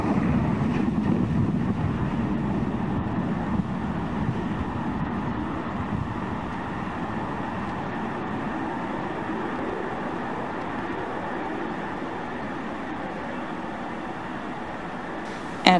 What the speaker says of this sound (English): And liftoff of Falcon 9.